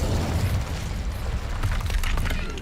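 In Hogwarts Legacy, the Incendio fire spell goes off as a rumbling, roaring blast with a heavy low boom, sustained crackling and a few sharp pops over the top.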